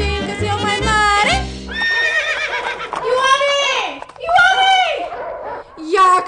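In a radio drama, a horse neighs and whinnies in several loud, shrill, wavering bursts, mixed with playful music and a voice talking between the calls.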